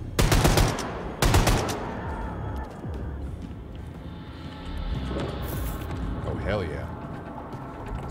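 Rapid automatic gunfire in the shooter Wolfenstein 2: The New Colossus, two loud close bursts at the start followed by scattered distant shots and a mechanical clatter under a noisy background.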